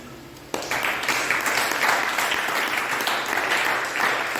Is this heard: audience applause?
yes